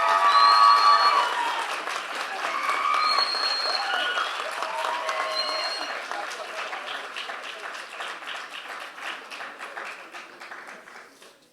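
An audience at a book presentation about theatre claps, the applause loudest at the start and fading gradually, with voices speaking over it.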